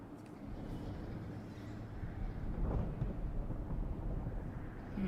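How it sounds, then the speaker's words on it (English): Thunder in Final Fantasy XIV, a low steady rumble rolling under a windy, storm-like background, faint and continuous throughout. "I just noticed there's thunder here"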